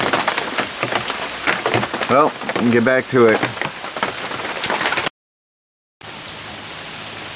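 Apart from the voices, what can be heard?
rain falling from hurricane's tail end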